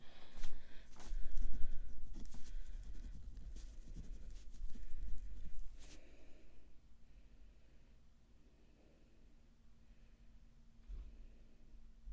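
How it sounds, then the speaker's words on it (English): Pen or marker writing by hand on paper, quick scratchy strokes in short bursts over the first six seconds, fairly close, then fading to quiet room tone with a faint steady hum. "I gotta write this down so my brain knows what I'm writing."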